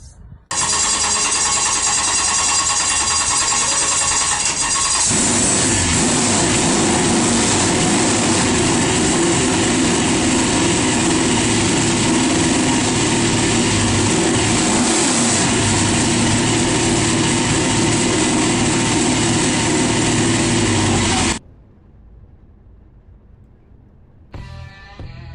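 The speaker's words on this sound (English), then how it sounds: "drivers, start your engines!" Late model race car engines roar together at Martinsville Speedway as the field fires up. The sustained, loud, dense engine drone holds for about twenty seconds, then drops abruptly to a low background murmur.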